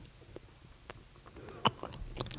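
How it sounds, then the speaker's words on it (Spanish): Quiet, close biting and chewing of food in a Spanish-language ASMR recording, with soft moist chews and a few sharper crunchy bites growing denser toward the end, and no talking. "¿Dónde doy el próximo mordisco?"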